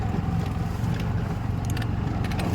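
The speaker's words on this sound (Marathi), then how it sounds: "रिक्षा आहे रिक्षामध्ये आपण तो पोच करतो घरी" An auto rickshaw engine drones steadily close by, a continuous low rattling rumble with faint higher clatter, running without pause and with no one talking.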